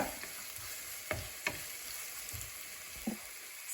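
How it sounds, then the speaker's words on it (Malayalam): Onions sautéing in a pan for mutton stew, a steady sizzle broken by a few scraping stirs of the spoon, close and fairly soft, with no one speaking. "ഈ സവാള ഒന്ന് വഴറ്റിയെടുക്കാം"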